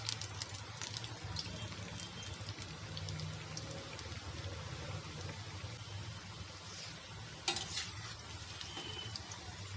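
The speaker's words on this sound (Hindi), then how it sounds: "ये देखिए नगेट्स हमारे अच्छे से फ्राई हो गए हैं।" Potato chilli garlic nuggets fry in hot oil over a medium-high flame, a steady close crackling sizzle with a few sharper pops and utensil touches, no voices.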